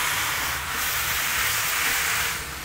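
Chicken pieces searing in a clean hot wok over raised heat for braised chicken with longan, producing a dense continuous loud sizzle and hiss up close, with no voices.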